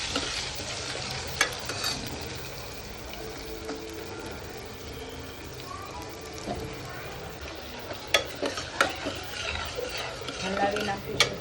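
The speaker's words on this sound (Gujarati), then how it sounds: "હલાવી નાખીશું, સાતળે રહીશું" Mixed vegetables fry in oil for Gujarati undhiyu while being stirred, a soft sizzle broken by spoon scrapes and clinks against the pot that cluster near the end.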